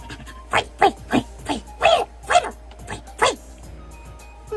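A human voice imitating Fidough, a puppy-like Pokémon, with a string of about eight short, separate yipping barks, close and clear, each followed by a brief pause.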